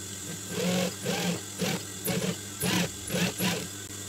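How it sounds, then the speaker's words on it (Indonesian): A sewing machine stitches fabric for a hat made from an old sweater, running in short bursts of rapid mechanical whirring separated by brief pauses, close and fairly quiet. "biar gampang ininya dijahit dulu ya"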